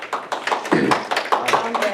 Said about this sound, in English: we'll allow clapping or snapping